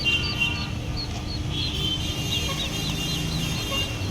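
Ducklings and chicks at a wholesale poultry seller in Assam, local pati ducklings and local chicks, peep continuously as a dense, busy chorus of high chirps over steady background noise, with no talk.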